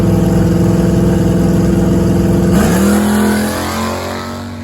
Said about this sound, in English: let me show you one quick pass of my car from a few years back when I had my old engine in